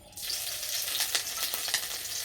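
Chopped green chilli and garlic hit hot oil in a wok, bursting into a loud, close sizzle that crackles and spits steadily while being stirred, with no talking.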